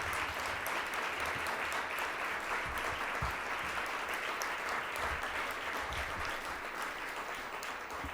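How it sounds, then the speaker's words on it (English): Applause from a conference audience after a panel discussion on the consequences of redlining, a dense steady wash of many hands clapping, continuous and fairly even for the whole stretch. "I think I could give them a round of applause."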